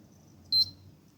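A PlayStation 3 console gives a single short, clear electronic beep from its power button, standing alone over a faint low room hum.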